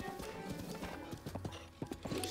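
Hooves clip-clop in a fast galloping rhythm as a horse runs in The Legend of Zelda: Breath of the Wild, with an occasional whinny and game ambience around it, no voice talking.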